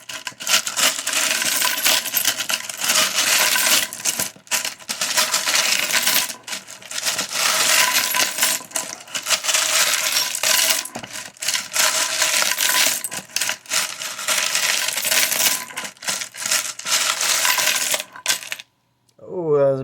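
A deck of cards being shuffled loudly and repeatedly, dense rapid riffling clatter in bursts with short pauses between, close up, and a brief quiet moment near the end.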